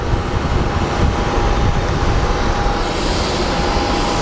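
An American Airlines airliner in U.S. Airways Heritage livery at Phoenix Sky Harbor airport gives off a loud, steady broadband jet roar that fills the whole stretch without fading.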